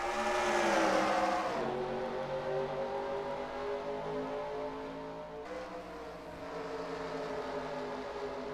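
Race car engines roar together in a racing video game as a 500-kilometre stock-car race at Phoenix goes green, a dense layered drone that swells and shifts pitch as the field accelerates, loud and continuous throughout.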